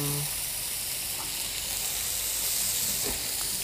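Steady sizzling hiss of butter frying in a hot pan, continuous and close, with no talking.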